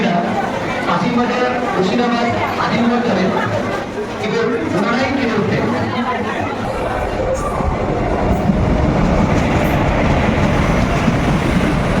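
Krishnanagar City–Azimganj Junction passenger train running on its first day, a loud, continuous rumble and rattle of the carriages heard from on board, with passengers chattering and talking throughout.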